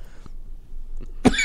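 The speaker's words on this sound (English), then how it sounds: "Sorry, we're coughing so much." A single sharp cough bursts out near the end after a quiet stretch with faint background sounds, close and fairly loud.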